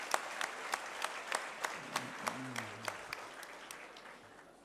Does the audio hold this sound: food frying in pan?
no